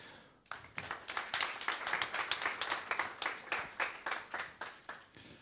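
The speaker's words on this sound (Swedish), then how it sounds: "Så vi ger Jakob en stor applåd upp på scenen." Applause from an audience at a transport policy event as a speaker comes on stage, a dense, steady burst of clapping starting abruptly after a brief pause and continuing close and clear.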